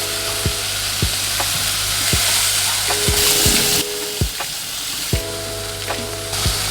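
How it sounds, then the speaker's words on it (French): Vegetables with paprika, chili, oregano and cumin sizzle steadily in a pan, a continuous frying hiss broken by regular clinks and scrapes of a utensil stirring, with no talk. "On fait revenir les légumes."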